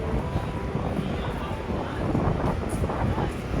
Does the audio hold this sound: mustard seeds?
no